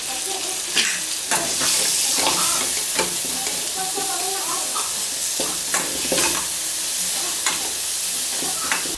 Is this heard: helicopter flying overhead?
no